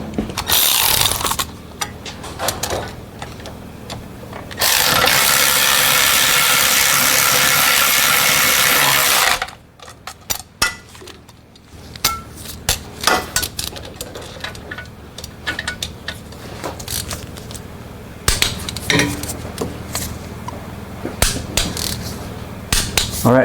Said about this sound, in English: Now we're gonna torque the bolts on the passenger side.